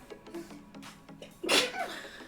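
A single sharp sneeze bursts out mid-stream, loud and close, with a short breathy tail, following a stretch of quiet indoor talk and shuffling.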